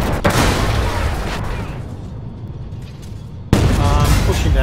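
Video game gunfire in a PvE mission, dense bursts of loud shots at the start, a quieter rumbling lull, then another sharp burst of firing near the end.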